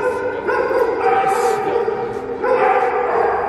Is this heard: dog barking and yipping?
yes